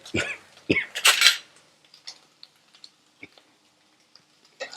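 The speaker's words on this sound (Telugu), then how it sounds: "వేసుకొని మంచిగా కలుపుకోవాలి ఇదంతా కూడా బాగా" Chapati strips cut like noodles, tossed with egg, onion and masala in a pan: a few loud scrapes and clanks of a spatula against the metal pan, then quieter scattered taps.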